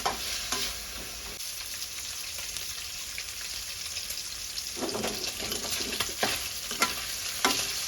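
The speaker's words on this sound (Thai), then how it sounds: "ทอดหมูให้มันออกเหลืองๆก่อนเจ้า เวลาเขาเอามากินมันจะได้หอมเนาะ" Pork neck frying in a pan until golden, a close crackling sizzle with repeated scraping and stirring of a utensil, loudest in bursts near the start and later on, no speech.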